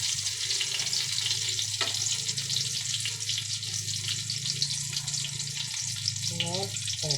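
Eggplant omelette fries in a pan with a loud, continuous, close sizzle and crackle, with occasional utensil clinks over the steady hiss.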